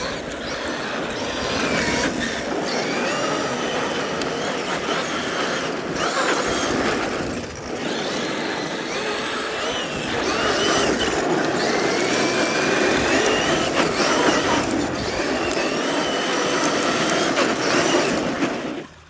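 A Traxxas X-Maxx 8S RC monster truck drifts around a parking lot, its motor whining continuously while tyres scrub and hiss on asphalt, surging and dipping with throttle changes over a long, loud stretch without talking.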